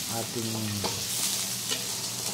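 Pork paksiw being stirred while sautéing in a pan, with a soft continuous sizzle and occasional scraping stirs, fairly quiet and close, no talking.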